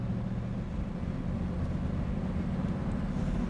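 A 1969 Chevrolet Camaro engine idling, a low, steady rumble that runs evenly and continuously without any revving.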